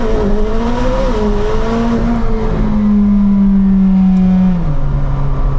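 A high-horsepower car at launch in a 0-60 mph acceleration test, its engine howling loudly close by as the revs climb and shift through the gears, with a touch of tire squeal.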